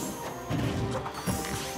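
A Toon Link bomb blasts on a stage platform in Super Smash Bros. for Wii U, landing as two loud crashing impacts over steady game music and crowd noise.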